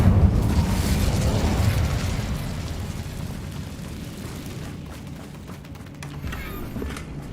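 An Incendio fire spell bursts in Hogwarts Legacy, a loud rumbling explosion at the start that slowly fades into a low roaring tail, then quieter crackles near the end.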